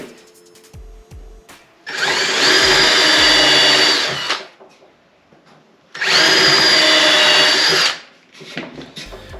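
A power drill drives screws into a game camera mount in two loud, close bursts of several seconds each. The motor whines steadily through each burst, with quiet handling noises between them.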